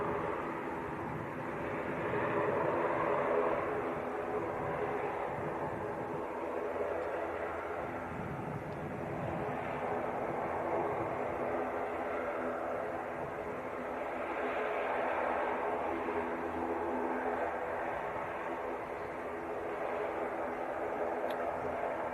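An Aer Lingus airliner passes at Leeds Bradford Airport, a broad steady roar of jet noise that swells and eases over about twenty seconds at moderate distance.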